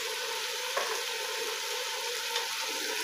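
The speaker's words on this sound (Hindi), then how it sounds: "आलूओं को भून लेंगे" About a pound and a half of potatoes fry in a pot with chicken, giving a steady, even sizzle with faint bubbling and a couple of soft knocks, heard close and without any voices.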